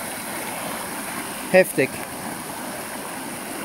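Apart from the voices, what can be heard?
rushing stream of water down a steep slope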